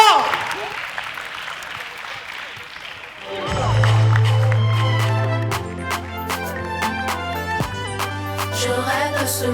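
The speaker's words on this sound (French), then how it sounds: "on se lève, on est chaud. Applaudissements," Applause and cheering from the audience at a school contest finale, a brief burst of clapping that fades quickly before music with sustained tones and sharp percussive hits takes over.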